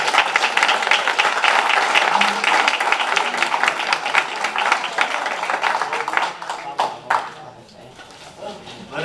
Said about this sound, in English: give yourselves a round of applause for coming out to this